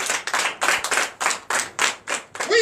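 A church congregation at a Sunday service in Bénin applauds loudly, a dense burst of many hands clapping that carries on steadily in rolling waves without talk.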